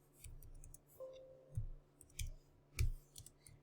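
Faint keyboard typing: a sparse, irregular run of soft clicks and taps, quiet and close, with no talking.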